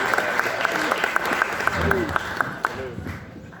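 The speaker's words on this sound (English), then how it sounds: "Let's give another big round of applause for our father of the bride, Steve, everybody" Wedding guests clap after the father of the bride's toast, a steady mid-distance patter of applause with a repeating high-pitched tone and some indistinct chatter running beneath it.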